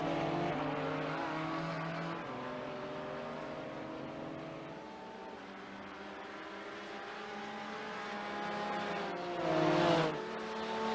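BMW and Porsche race cars during an endurance race, engines droning loudly and continuously with shifting pitch, swelling briefly near the end as a car comes closer.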